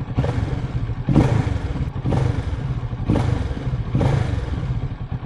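A Kawasaki Z650RS motorcycle engine with stock exhaust revs up repeatedly, four throttle blips rising and falling over a rumbling idle, close and loud.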